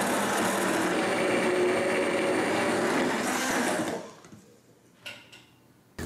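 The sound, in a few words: blender mixing mirror glaze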